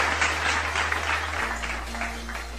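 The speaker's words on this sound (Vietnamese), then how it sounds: "xin một tràng vỗ tay thật lớn để chúc mừng cho các bạn đã đạt giải 3" Students and staff at a school flag-salute assembly applaud the third-prize winners, a sustained wash of many hands clapping together under a steady low electrical hum.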